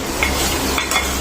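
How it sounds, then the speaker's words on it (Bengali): Meat fries in hot oil in a pot, a close, continuous sizzle broken by a few clinks as it gets stirred. "তেলের ভিতরে আমি ভাজিয়ে নিচ্ছি"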